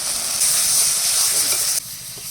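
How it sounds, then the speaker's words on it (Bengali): Fish masala paste for a spicy fish curry frying in a pan, a steady close sizzle with stirring scrapes throughout that drops off abruptly near the end, no talking. "মাছের মশলা কষিয়ে নিয়েছি"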